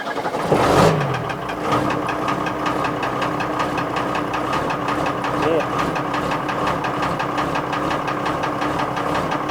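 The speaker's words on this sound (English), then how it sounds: "I'll just start it up" A car with a 330 D series engine cranks and fires up, then settles into a rough, rhythmic idle with a steady knocking clatter, heard nearby with voices talking over it.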